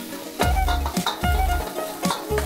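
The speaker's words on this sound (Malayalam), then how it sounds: "ഒന്ന് വഴറ്റുക." Chopped onion and ginger paste sautéing in a pan, with repeated stirring scrapes and a steady sizzle, close and fairly loud.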